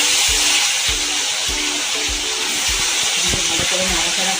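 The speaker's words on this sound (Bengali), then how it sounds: "তেলে কালো জিরে ফোড়ন দিয়ে তাতে টমেটো কুচি" Chopped tomato frying in oil over a nigella seed tempering gives a steady hiss, broken by rhythmic low knocks of stirring in the pan at close range.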